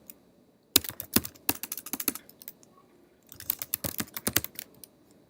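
Fingers tap out an email address on a computer keyboard in two quick bursts of crisp, close keystrokes separated by a brief pause, quiet otherwise and with no voices.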